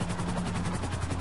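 A helicopter in GTA 5 thumps with rapid, even rotor beats, steady and close, with no voices.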